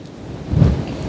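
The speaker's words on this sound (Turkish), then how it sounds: "Çok aşırı rüzgar var arkadaşlar kusura bakmayın." Strong wind buffeting outdoors, a low rumbling roar that swells louder midway through, with no voices.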